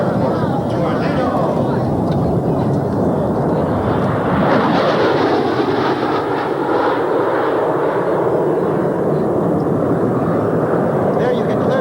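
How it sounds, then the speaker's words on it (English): Panavia Tornado jet making a pass at a 1994 air show, afterburners unlit and power pulled back in a high-G turn, a loud broad roaring rumble that swells and sustains throughout, with an announcer talking over it. "Afterburners not lit on that pass as he pulled the power back, decelerating the aircraft in that high G turn"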